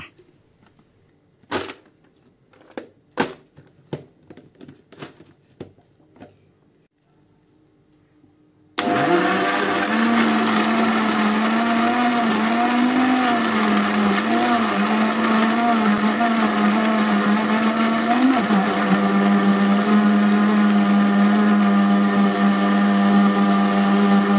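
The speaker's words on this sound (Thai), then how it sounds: "ต่อไปก็ปิดฝาแล้วก็ปั่นได้เลยค่ะ" An electric blender whirs steadily, blending cantaloupe with fresh milk and syrup; a few sharp clicks and knocks come first as the lid is closed, then the motor runs loud and continuous for about fifteen seconds.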